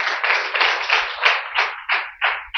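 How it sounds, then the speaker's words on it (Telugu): A congregation at a fasting prayer service claps loudly in a run of about nine dense bursts of applause, close and strong, with no talk over it. "గట్టిగా చప్పట్లు"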